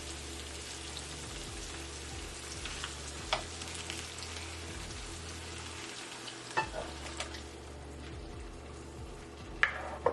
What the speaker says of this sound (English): now it's time to add our plum tomatoes.